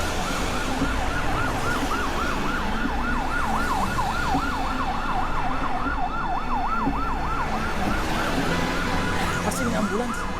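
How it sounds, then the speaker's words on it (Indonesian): An ambulance siren wailing in a fast, regular rising-and-falling pattern, loud and close over traffic noise, lasting about ten seconds. "Pasti ini ambulans, kita kan juga buru-buru."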